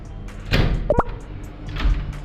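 A back door is opened indoors at a community homestay, giving a short clatter and a sharp knock or latch click partway through, over a steady room background.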